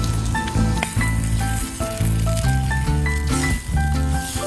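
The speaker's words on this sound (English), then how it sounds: "Oh yeah, sizzle." Chicken sizzles steadily in hot oil in a pan over a campfire, a constant crackling hiss, with melodic background music playing over it.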